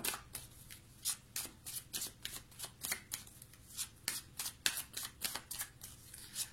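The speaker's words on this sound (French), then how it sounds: "Je vais recouvrir quand même les cartes." Tarot cards shuffled by hand in a quick, steady run of crisp riffling slaps, each burst close and clear above a low background hum, with no one talking.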